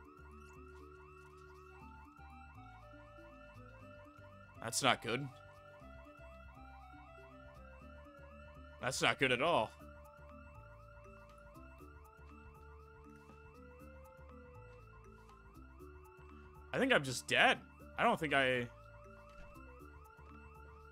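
A house alarm rings continuously in the video game Project Zomboid, a loud electronic tone that holds throughout. Someone talks over it, and bursts of louder noise break in four times.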